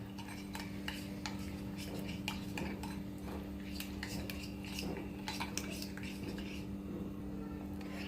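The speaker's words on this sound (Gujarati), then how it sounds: "હવે આપણે આને મિક્સ કરી લઈએ સરસ" A paneer recipe mixture is stirred in a pot, giving repeated scraping and clinking utensil sounds at close range over a steady low background hum.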